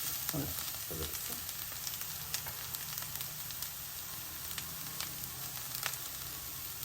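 Cabbage, onion and spice paste frying with egg in a pan for a cabbage egg fry, making a steady, close sizzle throughout, with a few stirring clinks near the start and no talking.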